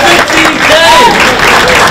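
An audience at a 2019 MLK Day Young Scholars event in Norristown gives a round of applause for performer Craig Lacy, loud continuous clapping and crowd noise with some voices and cheering mixed in.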